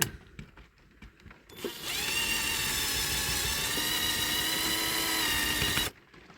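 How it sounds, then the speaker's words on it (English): After a few faint clicks, a small power drill whirs loudly and steadily for about four seconds, grinding into the metal of a diecast Corgi Toys Ford Consul Cortina Estate model, then stops abruptly. "let me just drill a bit more out"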